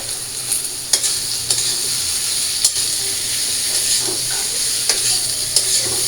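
Vegetables fry loudly in a pan seasoned with turmeric and salt, a steady close sizzle and hiss broken by several sharp stirring scrapes spaced a second or so apart.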